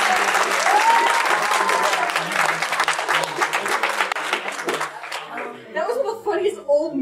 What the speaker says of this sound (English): A big applause for all you.